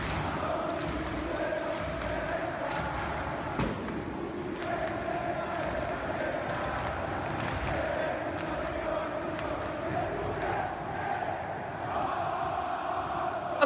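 Brazilian football supporters chant in a packed stadium, a dense, continuous roar of massed voices that stays loud and steady throughout with scattered sharper shouts.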